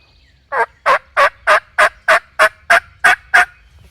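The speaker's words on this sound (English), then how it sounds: "I'm hearing him gobble over there every once in a while." A wild turkey gobbles in a string of about ten rapid, evenly spaced calls, loud and fairly close, with nothing else heard over quiet outdoor background.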